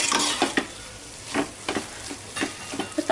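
Ground masala for mutton biryani sizzles in a pan while a spoon stirs and scrapes it in bursts, up close and without talk.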